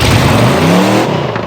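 A 500hp Chevy V8 swapped into a rear-drive Honda CRX roars at full throttle, a loud, close engine note climbing steadily in pitch across the burst before easing slightly at the end.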